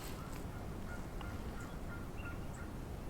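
Faint, distant Rio Grande wild turkey gobbles ring out a few times over a steady outdoor hiss on Oklahoma land in spring, with no talking.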